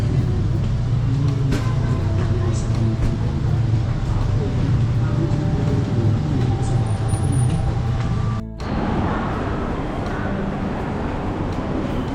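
Continuous low rumbling of a rail vehicle with rattling and mechanical hum, briefly dipping before resuming, murmured voices in the background.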